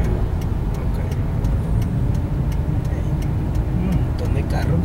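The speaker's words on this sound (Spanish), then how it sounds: "Un montón de carro que viene." Dense traffic drones on a busy street in central Sonsonate, with many cars streaming past in a constant loud roar and scattered sharp ticks and clicks over it.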